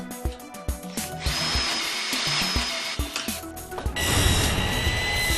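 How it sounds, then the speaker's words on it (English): Power drill driving self-tapping screws through metal track to fix it to wooden 1x4 spreaders on an insulated concrete form wall; repeated short whirring bursts with clicks, then a longer sustained drilling run, close and loud. "fasten the metal track to the 1x4 spreaders using the chalk line as a guide with screws through the metal track"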